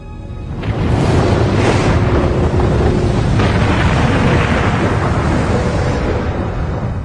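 A massive, rumbling blast roars in after a brief quiet and holds as a loud, continuous low thunder that slowly fades, with no voices.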